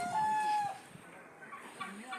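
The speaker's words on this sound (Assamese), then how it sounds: "এইবোৰ যি ডাঙৰ ডাঙৰ মুৰ্গী আছে দেখুৱাম দেই" Large chickens in a garden yard cluck and call close by, with a short clear tonal call at the start and scattered softer clucks after, over quiet outdoor background.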